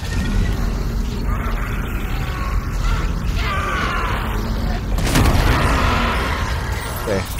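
Dead Space Remake gameplay explosion: a sudden low boom bursts out midway over a bed of creaking, groaning mechanical game ambience, loud and close, with rumbling debris trailing after.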